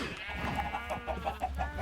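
Chickens in the video game Minecraft give a quick run of short, rhythmic clucks, close and fairly soft against a low hum.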